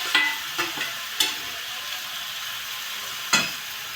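Roasted eggplant fries in a pan under a constant sizzle, with a handful of spaced scraping clicks from a spoon stirring through it, one loud scrape near the end.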